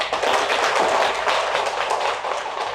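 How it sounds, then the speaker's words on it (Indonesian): An indoor audience gives dense, sustained clapping for a speaker at a gathering, many hands at once, close and lively throughout with no pause. "Tepuk tangan untuk beliau."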